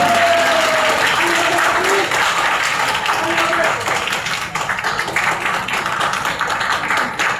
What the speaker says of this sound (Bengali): স্যারের জন্য সবাই জোরে করতালি দিবেন।